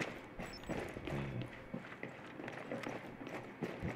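An enemy running in Rainbow Six Siege, footsteps patting quickly in an uneven rhythm, fairly faint and somewhat distant under a low background murmur.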